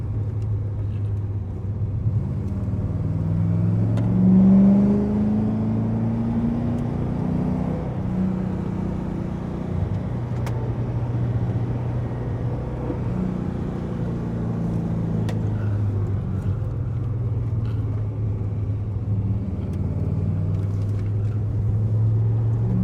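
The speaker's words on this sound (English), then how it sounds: "it is our first time taking the Corvette on the mountain road" A Chevrolet Corvette drives a mountain road, its engine a steady low drone from inside the car that swells briefly and carries on at an even pitch throughout, with no talk.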